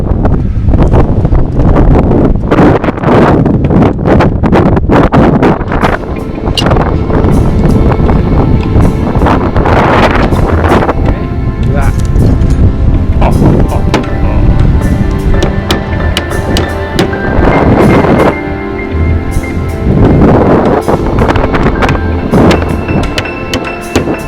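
Strong wind gusts over a house roof under construction, roaring steadily and loudly across the microphone with rustling, buffeting noise that rises and falls throughout.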